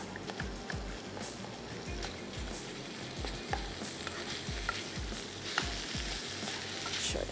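Spicy chicken keema sizzling and frying in a pan while being stirred, with steady sizzle and repeated scraping strokes of the spoon throughout, close and moderately loud, no talking.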